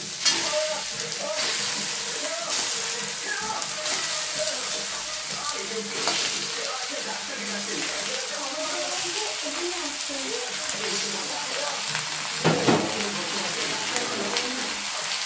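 Mutton pieces frying among browned onions in a pan, giving a steady, close sizzle with stirring scrapes throughout.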